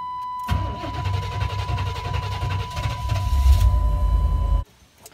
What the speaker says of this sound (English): We'll crank it over and see how it sounds.